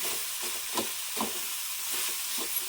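Jaggery melts in a pan for carrot modak while a spoon stirs it, giving a soft continuous sizzle with faint, irregular scraping strokes and no talking.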